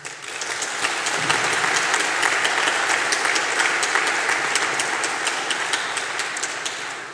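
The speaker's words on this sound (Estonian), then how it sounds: "Üks aplaus kuluks tõeliselt ära." A crowd applauds women at a political party women's association event, producing steady, dense clapping that swells in quickly and holds loud and even for several seconds before tapering slightly at the end.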